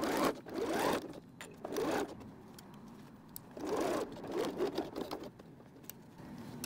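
A sewing machine stitches a cork pencil case seam with a 3/8 seam allowance, running in several short bursts of rapid mechanical chatter separated by brief pauses.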